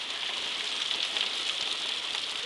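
Heavy rain pours down during flooding in Tennessee, a steady dense hiss of falling water hitting surfaces, loud and continuous for the whole stretch with no voices.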